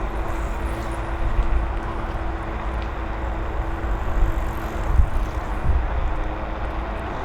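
An Ausom Gallop (Kukirin G3 Pro) electric scooter cruises along with a steady motor hum buried in constant wind rush and road rumble, a couple of bumps thudding near the end.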